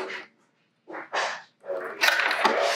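A dog close by gives a few short, breathy barks and yips in separate bursts with brief silences between, ending in a louder run of noisy barking.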